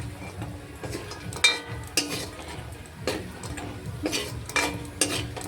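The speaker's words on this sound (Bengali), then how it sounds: "বড়িটাকে মাছ ভাজা তেলের মধ্যে দিয়ে ভেজে নিচ্ছি" Lentil bori (dried lentil dumplings) frying in oil left over from frying fish, with a steady close sizzle broken by repeated spatula scrapes and light metallic clinks against the pan; no talking.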